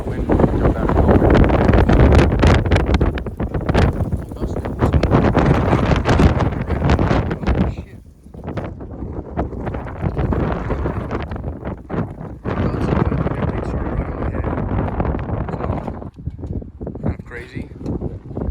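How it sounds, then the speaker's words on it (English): Strong wind blusters outdoors, buffeting the microphone with a loud, roaring rush that rises and falls in gusts across the whole stretch, with brief lulls between them. "that wind picked up out of nowhere"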